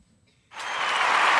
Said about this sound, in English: Let's get a round of applause for them one time.